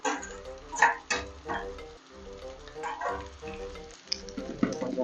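Cut idli pieces frying in an oiled pan with cooked egg, sizzling in short uneven bursts with stirring knocks, fairly close and moderately loud, no talk.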